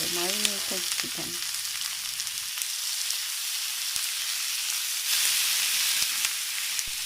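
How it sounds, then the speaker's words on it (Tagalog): Marinated chicken pieces sizzling and frying in a hot pan, a steady broadband crackle throughout, with a short burst of voice near the start before the frying continues on its own. "Then, let's put in our marinated chicken."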